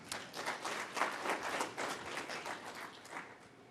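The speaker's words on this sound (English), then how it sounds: "let us clap hands again for this presenter." Steady applause from a group, many hands clapping densely and evenly for a few seconds, with no voices over it.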